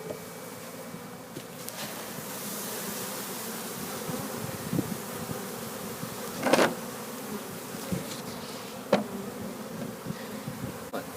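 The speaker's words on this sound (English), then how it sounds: "Okay, they're in the hive. And they're flying in." Bees flying into a hive on a farmyard, a steady close buzzing drone of many insects throughout, with occasional louder passes as individual bees fly near.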